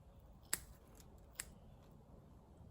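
Scissors snip through jig skirt material on a fishing jig, giving two separate sharp cuts, one louder and one softer, over a faint quiet background.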